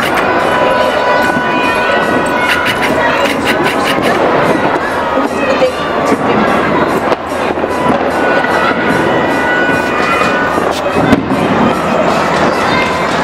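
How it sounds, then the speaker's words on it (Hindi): Firecrackers and fireworks set off during a Diwali celebration in India, a dense, continuous crackle of bangs and pops spread across the whole stretch, loud and busy with a crowd murmur underneath. "जगह जगह पटाखे क्रैकर्स जला करके लोग"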